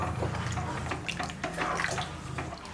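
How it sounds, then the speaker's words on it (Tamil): Water poured from a cup into a pot of basmati rice while making vegetable dum biryani, a close, splashy trickle with small drips and gurgles continuing steadily for a few seconds. "இப்போ அதே கப் அளவுக்கு நம்ம தண்ணி ஊற்றிடலாம்."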